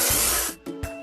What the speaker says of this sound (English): Let's paint over the discolorations.